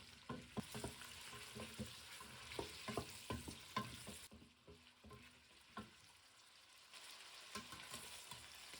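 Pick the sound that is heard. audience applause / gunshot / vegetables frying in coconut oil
vegetables frying in coconut oil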